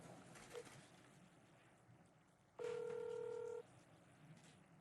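Telephone ringback tone during an unanswered call, a single steady electronic beep lasting about a second over a quiet background with a short faint tone before it.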